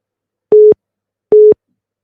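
Two identical short electronic beeps of a phone line tone on an incoming call line, evenly spaced and loud against total silence.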